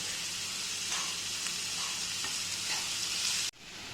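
Onions sizzling in a pan as they roast for a Kerala-style crab roast, a steady hissing fry throughout with faint stirring taps, ending in an abrupt cut near the end, no talk.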